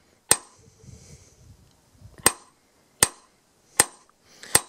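A hammer peening a metal blade: five sharp, loud ringing strikes spaced about a second apart, with some faint rustling and low handling noise between the first two blows.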